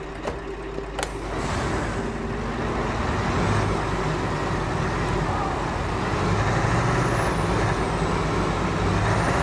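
A Scania 770S truck on snow tyres labours uphill under load, its deep engine drone loud, steady and close for the whole stretch, with a brief hiss near the start.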